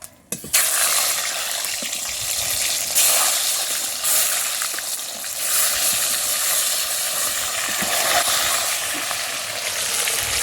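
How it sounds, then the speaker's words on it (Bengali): Eggs frying one by one in hot white oil in a home kitchen pan, a steady bright sizzle that runs continuously and close up with no talking. "ডিম ভেজে নেবো সব এক এক করে ভেজে নেবে"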